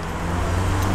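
Cars on a French street make a steady rumble of nearby traffic, a continuous low motor drone with broadband road noise and no talking.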